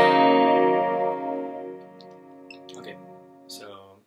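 Open strings of an electric guitar tuned a half step down are strummed together once, ringing out in a full sustained chord that slowly fades, with faint clicks and string noise near the end.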